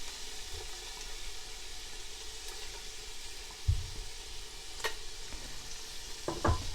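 Chopped onions hit a hot pan in a steady, quiet sizzle with light stirring, a few soft clatters from utensil and pan scattered through, no voices.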